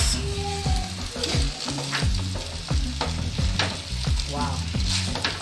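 Chicken spaghetti and fish stir-fry being tossed in a wok with a wok spoon, loud continuous sizzling under a quick run of metallic scrapes and clanks, close up and without talk.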